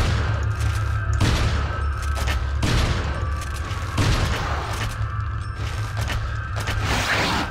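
Resident Evil 4 gunfire from the game, with several loud shots and booms spaced a second or so apart over a steady low rumble and mechanical clicks, with no talking.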